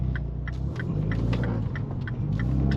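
A Mini Cooper S R56 with a DCT gearbox pulling away, a low, steady engine rumble and hum from inside the cabin with faint, rhythmic ticking on top.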